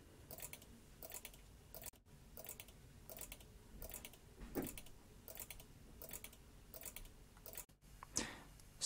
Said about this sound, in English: I can just sit and look at this and listen to the relays clicking